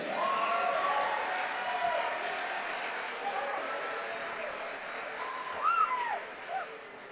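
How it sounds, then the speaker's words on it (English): Crowd applause and cheering fill a fight venue steadily, loud and continuous, with an announcer's voice and whistles rising above it. "big round of applause for both of these warriors"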